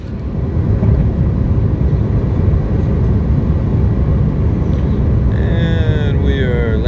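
An airliner landing at Charlotte airport, heard from inside the cabin, gives a steady, loud, low roar with no pause. Faint warbling tones creep in toward the end.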